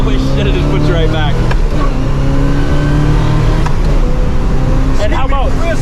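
A 1969 Chevelle Yenko tribute with a 427 V8 pulls hard through the gears, its loud, steady engine roar dipping briefly at a shift, with people talking over it inside the car.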